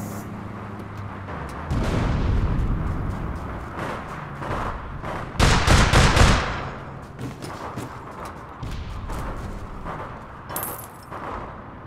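Gunshots and shotgun blasts in the online shooter APB Reloaded: scattered loud, sharp bursts, the heaviest around the middle, between quieter stretches of game noise.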